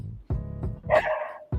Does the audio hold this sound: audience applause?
no